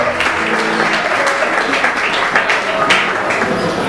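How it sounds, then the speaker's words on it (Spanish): Loud audience applause at a live folk band concert, a thick, continuous patter of many hands clapping close by, with scattered louder claps and some crowd voices mixed in. "¡Fuerte aplauso!"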